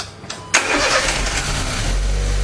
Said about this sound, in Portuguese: Essa é a primeira partida e vocês vão pegar aqui a primeira partida dele.